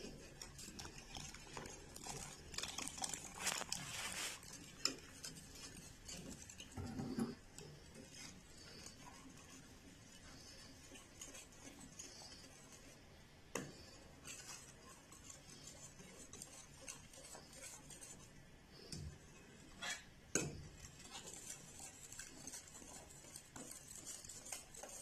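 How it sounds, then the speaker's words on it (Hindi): A spoon stirs milk in a pot while a bread dessert cooks, making faint, intermittent scraping and clinking over a quiet background with a few louder knocks. "आहिस्ता आहिस्ता इसमें शामिल करेंगे और चमचा हिलाते रहेंगे"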